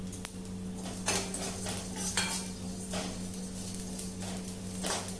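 A lump of asafoetida being lightly roasted in a pan and stirred, making close metallic scrapes and clinks in an irregular rhythm over a faint steady hum, with no talk.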